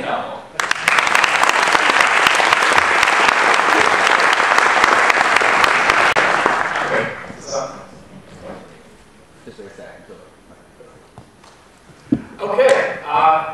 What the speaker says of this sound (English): Let's have a warm round of applause for Nick Helmholdt.